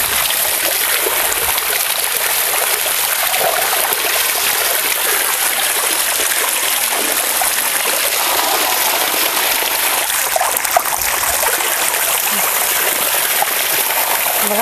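Bitter gourd is rinsed clean under running water, a loud, steady gushing stream with light splashing that carries on throughout, close by.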